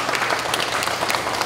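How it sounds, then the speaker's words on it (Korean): An audience applauds to welcome a speaker at an AI lecture event in Seoul: dense, steady clapping from a crowd fills the whole moment at an even, sustained level. "큰 박수로 맞이해주세요."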